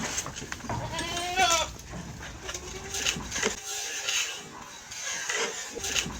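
A goat munches crunchy fish crackers up close on a farm, bleating several times amid the crunching while a person talks over part of it.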